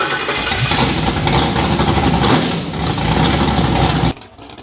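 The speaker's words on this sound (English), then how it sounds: "An ultra bouncer is a type of off-road racing vehicle that is specifically designed for extreme off-road driving." Engine of an Ultra Bouncer, an off-road racing vehicle built for extreme terrain, roars loud and steady for about four seconds, then cuts off abruptly to a quieter background.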